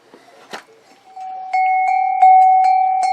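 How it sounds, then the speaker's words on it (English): A metal cowbell, the kind hung on cows, rings close and loud, clanking several times in an uneven rhythm with sustained ringing tones after a few softer taps and rustles at the start. "He doesn't like many of my cowbells."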